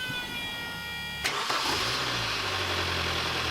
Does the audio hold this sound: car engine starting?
yes